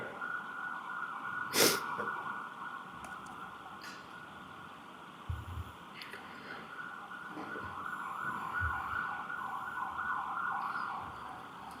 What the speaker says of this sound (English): Got a siren going by